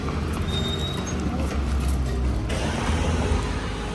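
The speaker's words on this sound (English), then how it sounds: "There's lots of traffic right now." Busy street traffic in Torre Posto, with steady low road rumble from cars driving past, fairly close and continuous throughout.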